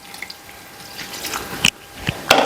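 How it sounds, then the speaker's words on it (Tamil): Water poured into mutton curry in a cooking pot, soft trickling and dripping building to a couple of sharp splashes near the end, close by. "கறி வேகிற அளவுக்கு நம்ம தண்ணி ஊற்றிட்டு"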